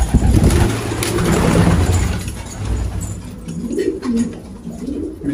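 Pigeons coo in low, rolling calls near at hand, over a steady engine hum in the background.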